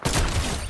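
A single sniper rifle shot in Fortnite, a sudden loud blast that fills the brief moment and trails off into a sustained rumbling echo.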